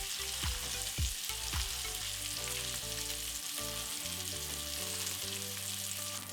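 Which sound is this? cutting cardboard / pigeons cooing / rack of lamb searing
rack of lamb searing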